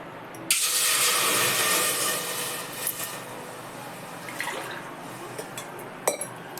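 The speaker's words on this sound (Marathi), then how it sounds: "ह्या ग्लासाने दोन ग्लास पाणी घालते मी" Water is poured from a glass into a pot for making syrup, a loud close splashing gush lasting a couple of seconds, then lighter trickles and a few clinks of metal.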